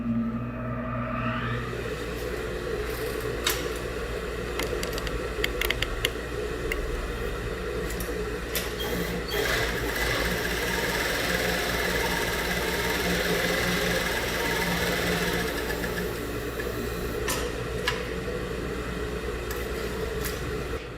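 Sewing machine stitching 2 mm stitches on flat fabric, a steady close mechanical whir with a rapid fine pulse that runs continuously throughout.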